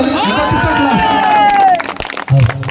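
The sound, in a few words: applause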